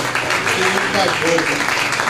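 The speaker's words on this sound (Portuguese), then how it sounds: "você pode aplaudir a palavra, porque a palavra é Jesus" Congregation in a church service clapping in praise, a continuous crowd applause filling the space, with a voice faintly present beneath it.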